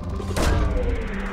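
A probe launching in the video game Mass Effect 2, a single heavy muffled thump with a brief whooshing rush, over a low steady ambient hum.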